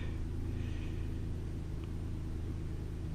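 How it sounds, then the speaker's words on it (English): A 2017 Toyota Kluger engine idles after an oil and filter change, a low, smooth, even rumble with a steady pulsing hum, fairly quiet and close, running alone without talk. "you can hear the engine sound really nice, sounds good, perfect."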